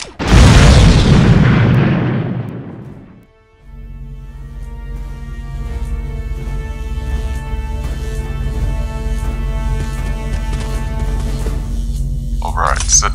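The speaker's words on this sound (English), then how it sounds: "Looks like we need a bigger explosion this time." A loud blast goes off in the LEGO Star Wars video game, a booming burst that fades over about three seconds, followed by a sustained low rumbling drone with tonal layers and a brief sharper sound near the end.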